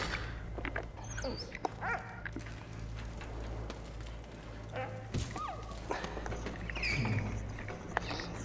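A dog in the video game A Sacrifice makes several short barks and whimpers over a steady low game ambience, with occasional thuds and no clear talk.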